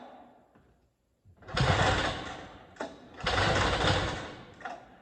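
A Ski Whiz snowmobile engine is pulled over with the fuel shut off and does not start, giving two long, loud bursts of churning, rasping cranking noise separated by short pauses.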